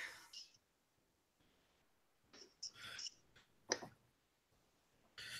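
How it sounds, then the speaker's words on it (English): A few light, sharp clicks in a quiet room, sparse and irregular, close to the microphone with faint background noise. "So, what are you clicking over there, Ty?"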